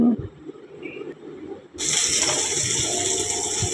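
Tap water runs for a bath on a hot afternoon. A quiet room gives way midway to an abrupt, steady gushing stream that continues loudly to the end.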